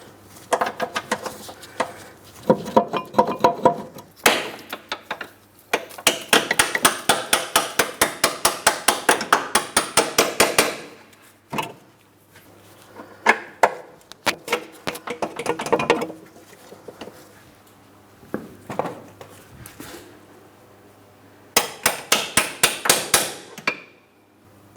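A rubber mallet taps a bolt into place through the front lower control arm of a 2003-2007 Cadillac CTS, in bursts of rapid, close, sharp knocks separated by short pauses, with no talk.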